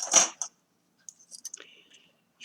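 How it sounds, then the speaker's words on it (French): Scissors snip through paper while card embellishments for an album are made: a few short crisp cuts and clicks, close and quiet, with a faint voice in between. "Je viens découper ici. Comme ceci."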